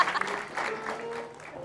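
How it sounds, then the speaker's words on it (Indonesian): A talk show audience claps for a group of racing drivers in a short burst of applause, with voices carrying underneath. "Ya jangan pelit, tepuk tangan."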